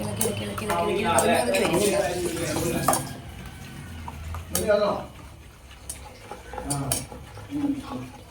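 A spoon stirs a homemade chocolate ice cream mixture in a bowl. Clinking and scraping stir strokes sit under a woman's speech for the first few seconds, then continue as intermittent taps and clinks.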